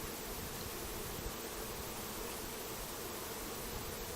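Honey bees buzzing around an open yellow hive, a steady dense hum that fills the space without a break, moderately loud and close, with no voices.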